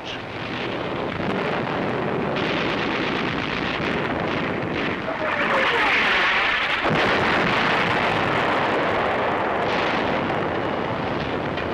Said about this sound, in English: Our artillery begins to find the range.